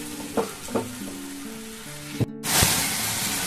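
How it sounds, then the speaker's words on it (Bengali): Spices with ginger, green chili and turmeric sauté in a pan, a soft sizzle punctuated by a few spoon scrapes and taps, then a sudden louder burst of frying hiss near the end. "দেখুন আমার মশলা খুব সুন্দর করে কষানো বা ভাজা হয়ে গেছে।"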